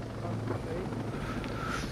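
Helicopter in the video game Ghost Recon Breakpoint, a steady low rotor and engine drone running under the whole stretch, with voices talking over it.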